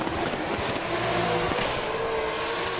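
Drift cars racing in the Pure Drift 2023 season, with a dense, continuous roar of engines under load, loud and sustained, with no clear pauses.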